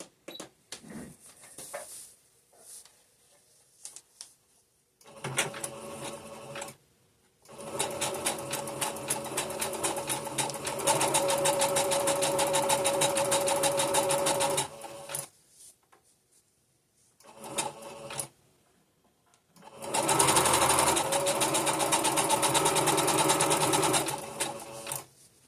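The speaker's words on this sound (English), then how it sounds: "Place your material under, your presser foot down, and turn your machine on zigzag." A domestic sewing machine runs a zigzag stitch on fabric in three close bursts: a short run, a long steady whirring stretch and a final run, with quiet handling sounds and brief stops between them.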